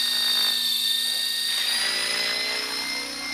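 A radio-controlled model helicopter with stabilizer and GPS holds its rotor at a fixed speed, giving a loud, steady high-pitched whine with a low hum beneath, continuous and close throughout.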